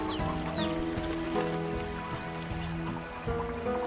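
Roosters in the Slime Rancher video game clucking in short bursts over a steady bed of synthetic game music and ambience, moderately loud and without speech.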